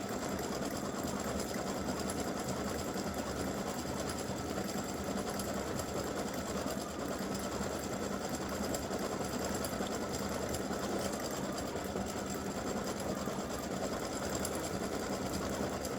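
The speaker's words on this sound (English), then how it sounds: "it's just going to stitch the bow, which to me looks kind of like angel wings" An embroidery machine stitching a freestanding lace bow runs with a continuous fast needle chatter and motor whir, steady and close, with no talking.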